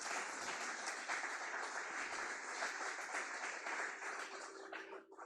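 A church congregation gives steady applause to the Lord during a Spanish-language service. The crowd clapping is dense and even, heard from a moderate distance, and fades slightly at the end.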